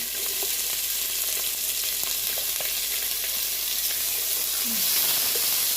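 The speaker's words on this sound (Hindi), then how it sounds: "मैंने ऑयल डाला है और अब इसमें जाएगा प्याज।" Onion going into hot oil for a turnip and chicken dish, with a loud, steady frying sizzle and occasional stirring noises up close.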